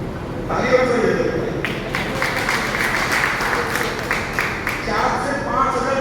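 An audience at a talk in Malwa breaks into a few seconds of crowd applause, a rushing patter of hands that rises and fades while a voice carries on speaking over it.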